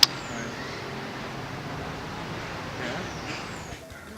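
Steady hum of city traffic on a street in Port-au-Prince, cars passing in a continuous wash of road noise, moderately close, with a brief swell near the end before it eases off.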